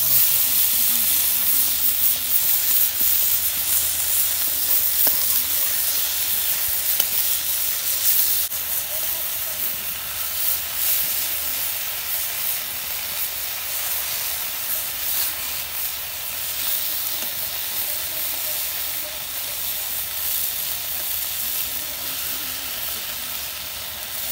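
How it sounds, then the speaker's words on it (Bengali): Fish sizzles steadily in hot oil after being turned over in the pan, a dense continuous frying hiss with small crackles that holds at an even level for the whole stretch, with no talking. "এখন আমি উল্টে এই পিঠে ভাজবো।"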